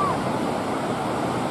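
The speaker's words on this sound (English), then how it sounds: "this wave is a little bit tricky" Ocean surf washes in a steady, broad roar of breaking waves at a youth board-paddling championship in Australia, a continuous wash of water with light wind, no voices standing out.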